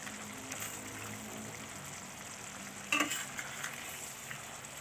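Intestines in a yellow spice sauce simmer and thicken in a pan with a faint, steady bubbling sizzle, quiet and even, broken by one brief clink of a utensil partway through.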